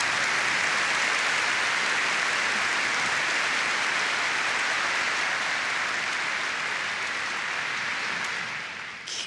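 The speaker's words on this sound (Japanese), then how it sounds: "はい、拍手。" Audience at a university entrance ceremony applauds in a broad, steady wash of clapping that holds evenly for several seconds, then thins slightly at the end.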